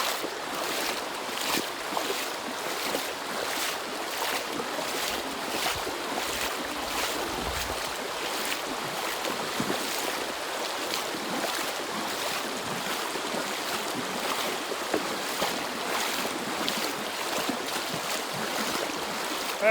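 A boat crosses shallow, mossy riffles on the Yellowstone River, with a steady, loud rush of water and hull noise over nearly twenty seconds, continuous and unbroken, with no talk.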